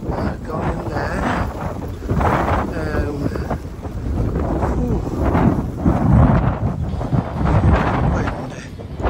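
Strong, cold wind buffets the microphone outdoors in a steady loud roar, with people talking faintly underneath.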